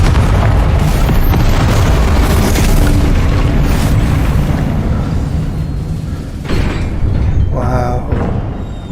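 Loud booming blasts from a Confringo spell explosion in Hogwarts Legacy roar in a heavy, continuous rumble, with a fresh burst near the end and game noise mixed in.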